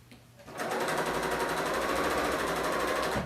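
A Bernina L890 serger starts up and runs steadily while sewing a hem, a fast, loud, even mechanical whirr and rapid stitch chatter that holds for about three seconds.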